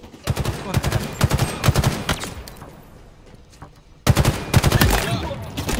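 Rapid bursts of automatic gunfire in a Halo Infinite ranked Oddball match, two dense volleys of sharp shots separated by a brief lull, with game background noise.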